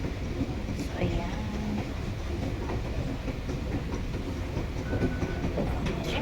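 Underground Taipei MRT train rumbling and clattering steadily at close range through a clean metro station, with a voice talking over the rail noise.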